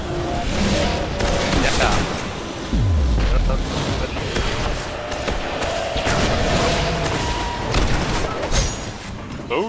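Loud, chaotic video-game combat: grenade explosions and bursts of gunfire piled densely together, with a deep booming thump partway through. Someone shouts briefly over the din.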